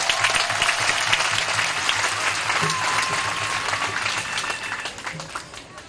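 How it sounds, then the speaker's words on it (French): A large crowd applauds steadily at an outdoor celebration honouring Sister Anuarite in Isiro, a dense, loud wall of clapping with faint voices, easing slightly toward the end. "Applaudissez-leur s'il vous plaît."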